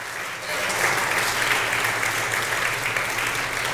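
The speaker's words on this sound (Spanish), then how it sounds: "Dele un aplauso a ese gallito que me salió." A church congregation applauding during a Spanish-language sermon, sustained even clapping from many hands that swells after a brief quieter start and holds steady.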